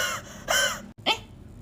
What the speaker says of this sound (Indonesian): Itu batuk apa asma?